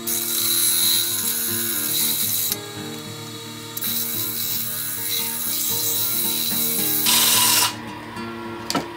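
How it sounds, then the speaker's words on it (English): Steady, dense rasping scrape of 80-grit sandpaper worked by hand against the inside of a wooden cup, continuous with brief shifts in intensity, close and fairly loud, no voices. "start with a quick hit with 80 grit sandpaper on the inside"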